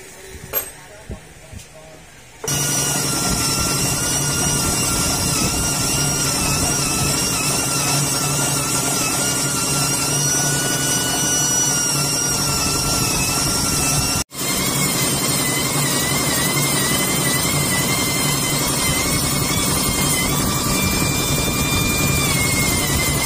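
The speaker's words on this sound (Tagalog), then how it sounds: "Intake saka exhaust. Gamit natin yung mini grinding." A mini grinder ports the intake and exhaust of a bored-up Honda Click 150 motorcycle cylinder head, whining loudly and continuously for most of the span with a brief pause midway, after a quiet start.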